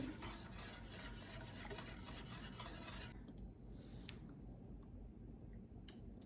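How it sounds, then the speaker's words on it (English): A whisk beats a mint parfait filling with food coloring in a bowl, giving rapid, rhythmic scraping for about three seconds before it stops, leaving quiet kitchen sounds. "Then we're supposed to whisk this for 2 to 3 minutes till smooth."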